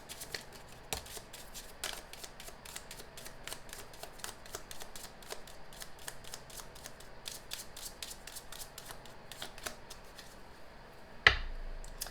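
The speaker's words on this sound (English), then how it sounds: "Let's do one more shuffle." Rapid riffling clicks of a card deck being shuffled, crisp and close, repeating in quick bursts, ending with a sharper slap of the cards.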